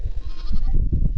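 Blackface sheep bleating on a 5,000-acre hill farm during lambing season, with repeated low calls from a flock close by, steady and fairly loud throughout.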